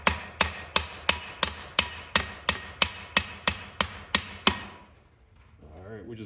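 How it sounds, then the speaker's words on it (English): A hammer gently taps a steering pin on an International 986 tractor, about a dozen sharp, evenly spaced metallic knocks close up, then the tapping stops and faint background sound remains. "So just getting a gentle, very gentle tap and just feeling with my fingers"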